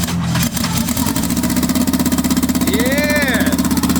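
A turbocharged Honda Civic EK hatch with a GSR engine idles steadily after its first start, a rough, pulsing rumble with a fast even beat, while a voice briefly whoops over it.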